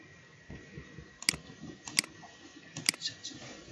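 Computer keyboard presses during spreadsheet work: three sharp, separate clicks spaced roughly evenly over a quiet background, light and close.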